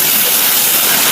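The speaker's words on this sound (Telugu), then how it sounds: "మంచిగా ఫ్రై అయితే అవుతున్నాయి." Mutton bones frying in a pan for Telangana-style bone curry give off a loud, dense, steady hiss that fills the moment with no break.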